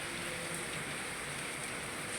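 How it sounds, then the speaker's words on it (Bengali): Dense, heavy rain falls without pause, an even wash of drops on surfaces filling the short stretch with a steady hiss. "চলছে বৃষ্টি।"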